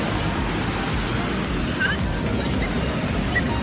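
Ocean surf at Myrtle Beach, South Carolina, a steady broadband wash of waves rolling in, loud and continuous with some wind noise, with brief faint chirps above it.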